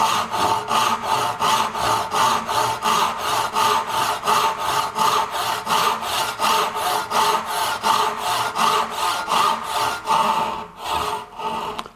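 Hand saw cutting through wood while building a modern chest of drawers, with a steady rhythm of about two dozen close, rasping back-and-forth strokes and a brief pause near the end. No one talks.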